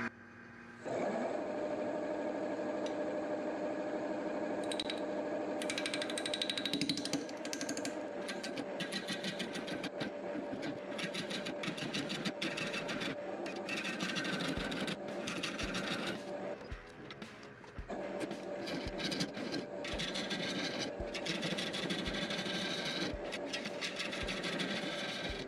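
Wood lathe spinning a resin and maple burl vase at about 750 RPM, a steady mechanical whir with a sustained hum and faint cutting scrapes throughout.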